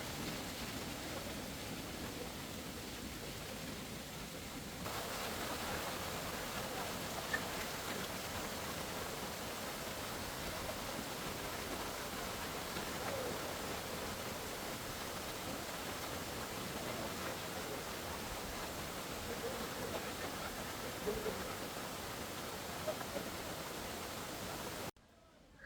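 Amboli waterfall in October, a steady broadband roar of falling water that continues evenly for about twenty-five seconds, with a faint voice briefly audible.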